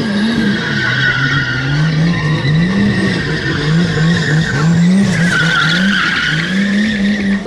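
A race car skids and spins through repeated 360 and 540 degree drift rotations at a motorsport show, tires squealing continuously over a loud, wavering engine drone, close and sustained throughout.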